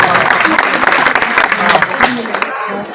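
A large crowd gives loud, dense applause for the chairman at an outdoor event in Ghazipur, Uttar Pradesh, sustained close clapping that tapers slightly at the end.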